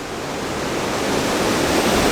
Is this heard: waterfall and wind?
yes